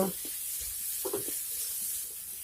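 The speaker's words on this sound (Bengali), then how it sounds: "পেঁয়াজটিকে হালকা একটু ভেজে নেব।" Chopped onion frying in hot oil in a home kitchen pan, a faint, steady sizzle with a few soft stirring clinks, no talking.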